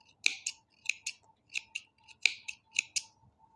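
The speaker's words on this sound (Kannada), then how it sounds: "ಇವಾಗ ನಿಮಗೆ ಎಷ್ಟು ಲೆಂತಿ ಬೇಕು ಅನಿಸುತ್ತೆ ಅಷ್ಟು ಲೆಂತಿಯಲ್ಲಿ ಈ ಕುಚ್ಚನ್ನ ಟ್ರಿಮ್" Scissors trim saree tassel threads in a series of crisp, close snips, about a dozen quick cuts in uneven pairs, fairly quiet and alone.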